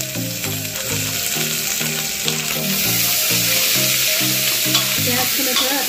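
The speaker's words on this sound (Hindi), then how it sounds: "अब देखिए हमारा प्याज भून चुका है अच्छे से।" Chopped onions with bay leaves fry in hot oil for a jackfruit curry, giving a loud, continuous sizzle with occasional stirring. A rhythmic background melody plays under the frying.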